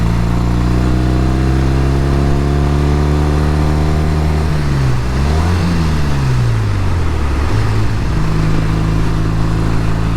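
A 1969 Triumph T120R motorcycle engine runs steadily up close, its loud idle rising and falling through a couple of revs midway before settling back to a constant drone, with no voices.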